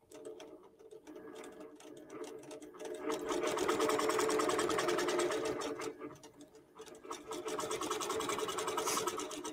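Sewing machine driven by a QBOT V3 quilting robot stitches steadily, a dense, rapid mechanical chatter that runs throughout, near and fairly loud, dipping briefly in the middle before picking up again with no talking.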